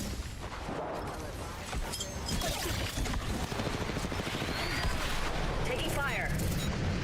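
Rapid in-game gunfire in the battle royale shooter Apex Legends, dense crackling shots and booms mixed with game effects, loud and continuous, with a player's voice talking over it.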